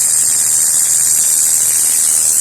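A tattoo machine gives a steady high-pitched electric buzz with a faint low hum underneath, continuous and close, with no voices.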